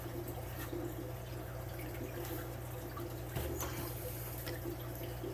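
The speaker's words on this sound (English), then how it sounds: "It pumps the water through this hole." A Seachem Tidal aquarium filter pump runs steadily, pushing water through with a constant low hum and trickling, bubbling flow, close and continuous throughout.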